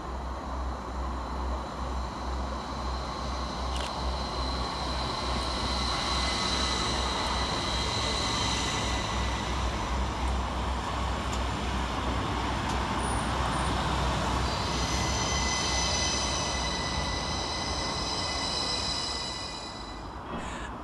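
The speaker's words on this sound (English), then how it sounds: "Coming next around the corner is 333008, working the 1337 Northern service from Bradford Forster Square to Skipton." A Northern class 333 electric train passing through Steeton and Silsden station, a continuous loud rumble and roar with high whine that holds steady for about twenty seconds, then eases slightly at the end.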